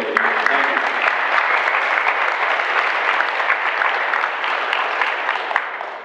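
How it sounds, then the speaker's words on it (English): Sustained round of applause from a crowd at a public water meeting in Ojai, a dense, even wash of clapping holding loud and steady before tapering slightly at the end. "We owe them a round of applause for what they've been able to do"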